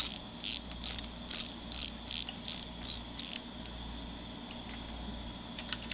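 A torque wrench clicks as engine bolts are tightened on a Ford 351C build, with several quiet, sharp mechanical clicks spread across the stretch over a low background hum.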